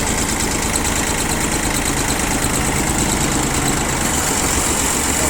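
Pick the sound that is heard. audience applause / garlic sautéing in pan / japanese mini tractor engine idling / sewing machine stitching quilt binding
japanese mini tractor engine idling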